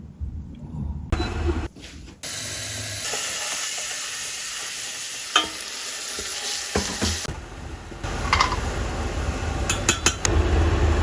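Kitchen cooking for a Turkish iftar meal: a long, steady sizzling hiss of frying with steam, broken by occasional clinks and stirring knocks, close and continuous.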